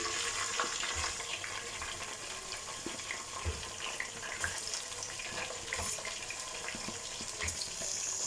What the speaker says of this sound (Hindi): एक से 2 मिनट हम अपने चिकन की जो है वो भुनाई कर लेंगे